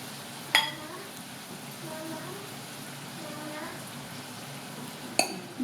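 Rice being stirred into Filipino shrimp paste and pork belly, a soft continuous sizzle with faint scraping, two brief sharp clinks of a utensil on the pan, and quiet talk over it.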